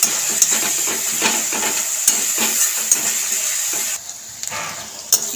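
Grated onion fries in hot oil with a pinch of salt, giving a close, continuous sizzle. Repeated spatula scrapes and taps against the pan come every second or so, and the sizzle drops off briefly near the end.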